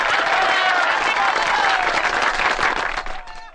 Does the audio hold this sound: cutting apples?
no